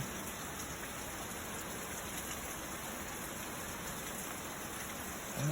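Heavy rain pours during a summer thunderstorm, a dense, steady hiss of falling water that stays constant throughout with no distinct thunder.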